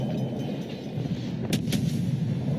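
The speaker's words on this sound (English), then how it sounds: "Get my torpedoes out." Torpedoes launch from a Fletcher-class destroyer in a naval battle video game set in the Atlantic, a low rumbling game soundscape with two quick sharp bursts close together near the middle.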